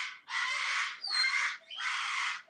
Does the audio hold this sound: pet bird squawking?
yes